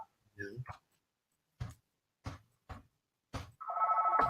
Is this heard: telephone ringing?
yes